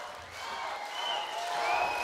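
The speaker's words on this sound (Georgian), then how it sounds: "აპლოდისმენტები უფრო მეტი." A studio audience applauds during a television show, a steady wash of clapping that sounds fairly distant and soft and swells slightly toward the end.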